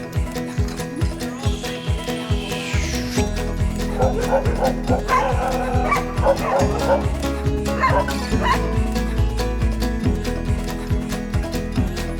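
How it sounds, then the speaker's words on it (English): Several sled dogs bark and yip excitedly in a rapid, overlapping chorus, loud and close, with a steady rumble running underneath. "Our next activity, dog sledding."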